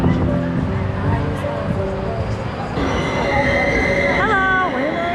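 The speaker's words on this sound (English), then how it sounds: "And look, there's a cool train right behind us." Train at a European railway station, a loud rumbling rolling sound with rising wheel squeals and screeching tones toward the end, close by, with people talking over it.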